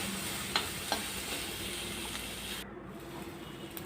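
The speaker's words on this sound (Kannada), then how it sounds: "ನಂತರ ಸಣ್ಣದಾಗಿ ಕೊಚ್ಚಿರುವ ಈರುಳ್ಳಿ ಹಾಕೋಬೇಕು. ಇದನ್ನು ಸಣ್ಣದಾಗಿ ಫ್ರೈ ಮಾಡ್ಕೋಬೇಕು." Finely chopped onion fries with cumin seeds in a hot pan for a tomato and potato saaru, a steady close sizzle with a couple of light stirring taps, then the hiss softens abruptly.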